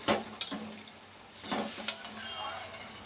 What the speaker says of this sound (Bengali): আমি এখন একটু বেশি করে জল দিয়ে দেব জল দিয়ে দিলাম